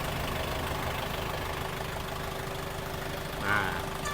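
A 2023 Yanmar YM351A 51 hp farm tractor diesel engine idles close by with an even, rumbling chug and a low steady hum. One brief louder bump comes near the end.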